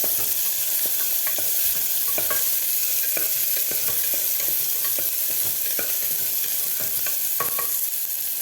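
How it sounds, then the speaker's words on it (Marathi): Chopped onion sautés in a hot pan for Kolhapuri misal, a steady close sizzle broken by frequent quick scrapes and taps of a spoon stirring. "आपल्याला व्यवस्थित परतून घ्यायचा आहे कांदा थोडासा एखादा मिनिट आपल्याला कांदा परतून घ्यायचा आहे"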